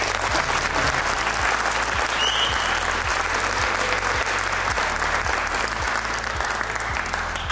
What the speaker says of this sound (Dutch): Dus een groot applaus voor elkaar.